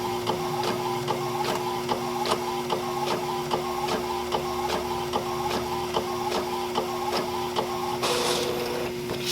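Inkjet printer running off a mirrored sublimation transfer for a mug, with a steady mechanical whir and evenly spaced carriage clicks repeating throughout, then a brief louder burst near the end.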